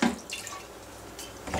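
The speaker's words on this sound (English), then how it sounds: "now I'm gonna cover it with a little bit of water, a little sprinkle of white wine" Water splashes over chicken breast in a pan for poaching, a short broadband wash of pouring liquid with brighter bursts at the start and end of roughly two seconds, close and moderately loud with no speech.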